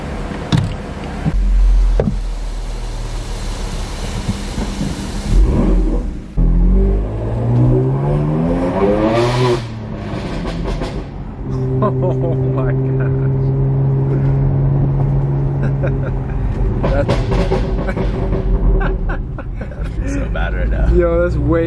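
A stage 2 tuned BMW M3 Competition with a decat downpipe and loud burble tune drives off, its engine revving up and down through rising and falling sweeps, with some speech mixed in between the pulls.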